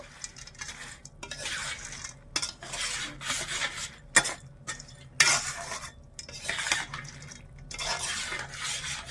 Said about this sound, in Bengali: চুষি পিঠিগুলো আমি ভেজে রেখেছিলাম এইগুলো এবারে চিনি রসের মধ্যে দিয়ে দেবো ভালো করে একটু মিশিয়ে নেব চিনির রসের মধ্যে